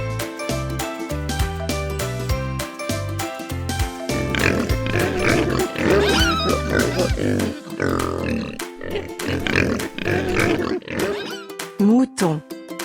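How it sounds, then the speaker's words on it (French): A farm pig grunts and snorts in rough bursts through most of the stretch, set against bright, bouncy music with jingles, the grunting loud and close and ending with a squeal. "Cochon."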